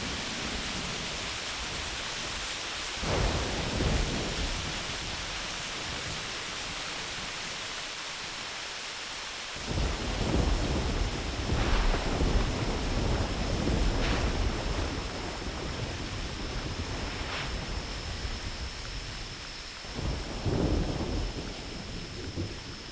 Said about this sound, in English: At least the rain calmed down a little bit so you can finally hear something.